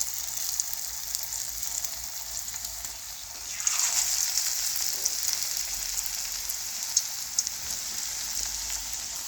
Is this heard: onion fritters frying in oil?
yes